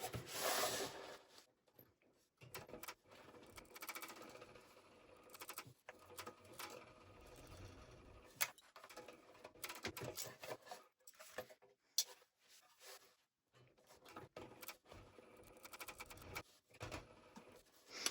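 A domestic sewing machine stitches through waterproof canvas in short, uneven bursts of quiet mechanical whirring and ticking, broken by pauses and faint rubbing of the fabric.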